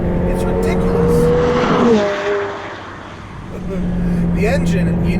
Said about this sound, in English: The engine, you need to spin it up. It has quite a bit of lag.